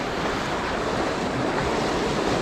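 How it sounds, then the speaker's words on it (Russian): Steady rushing water from a small waterfall on a small river roars continuously and fills the whole clip, close and loud, with no voices. "на другой водопадик"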